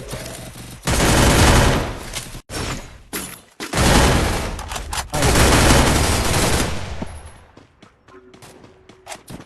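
Gunfire in a shooting video game, with long loud bursts of rapid automatic fire broken by short pauses and single shots, dense and close, fading into scattered clicks at the end.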